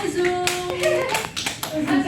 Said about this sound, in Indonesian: beri tepuk tangan ke pasangan yang sangat solid ini ya